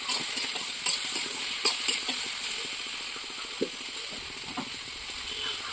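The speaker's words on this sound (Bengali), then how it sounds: "এটাকে আমি ভালো করে নাড়াচাড়া করবো যাতে মশলাটাও ভাজা হয়ে যায়।" Spices with cumin and sugar sizzle in a pan while being stirred, with a run of quick scraping knocks early on that thin out later, over a constant close frying hiss and no voices.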